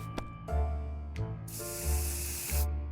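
An aerosol can of bug spray hisses in the game 60 Seconds! Reatomized, one sustained spray burst of about a second over a looping low musical drone.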